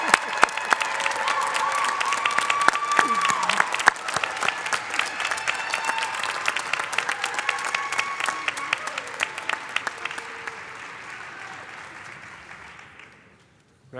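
A convocation audience applauds its graduating class of 2021 in a standing ovation. The crowd keeps clapping hard with scattered cheers, then the applause gradually thins and fades to near silence at the end.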